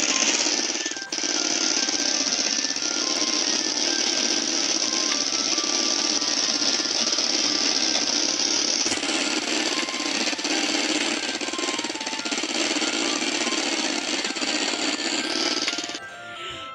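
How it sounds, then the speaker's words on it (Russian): A green motorcycle drives in a Minecraft car mod, giving a steady, loud, buzzing mechanical drone that hardly changes in pitch and holds for the full stretch with no talking. "Давай-ка мы сядем на зеленый мотоцикл и послушаем,"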